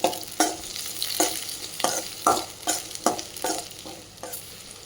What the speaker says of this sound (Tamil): ஒரு பெரிய வெங்காயத்தை நான் க்யூபாக வெட்டி வச்சுருக்கேன், அதையும் குடமிளகாயும் சேர்த்து நல்லா கிளறி விட்டுக்கலாம்